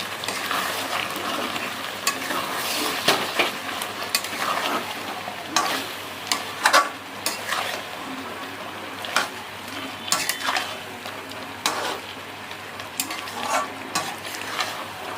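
Chicken with ground mint paste frying in a pan, a continuous close sizzle broken by repeated sharp spatula scrapes and metallic clanks against the pan at an uneven rhythm, with no one talking.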